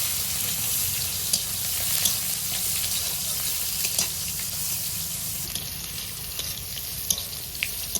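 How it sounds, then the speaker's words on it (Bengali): Garlic fries in a pan of hot oil with bay leaves and chili, a steady crackling sizzle throughout with faint clinks, and no talking. "এখন দিয়ে দেবো রসুন"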